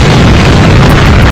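A loud, sustained explosion effect standing in for the Big Bang, the great burst of dust and gases, rumbles as a dense broadband roar for over a second before cutting off abruptly.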